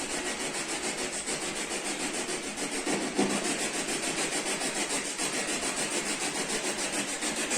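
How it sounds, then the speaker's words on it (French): Spirit Box radio rapidly sweeping stations in a house produces continuous harsh static with a fast rhythmic pulsing texture, steady and moderately loud throughout, no voices. "Est-ce que le bruit de la Spirit Box, ça vous gêne?"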